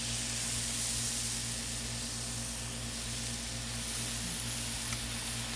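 Boneless seasoned pork chops laid on a hot Blackstone griddle, producing a steady, loud, close hissing sizzle with a constant low hum underneath and no talking.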